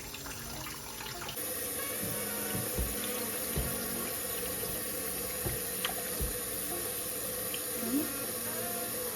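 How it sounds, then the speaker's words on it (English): Tap water runs steadily over shellfish shells being rinsed for a gumbo stock, a constant close rushing hiss broken by a few soft knocks and clunks in the sink. "So I'm going to rinse this as well and put it on the fire."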